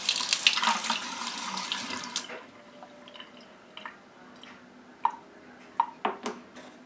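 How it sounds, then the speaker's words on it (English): Tap water gushes into a studio sink while a paintbrush is rinsed of color, a steady close pour for about two seconds, then shutting off to leave scattered drips and small splashes. "when I go to rinse out my brush, I can put it up against the sink and make sure I've got all of the color out of there"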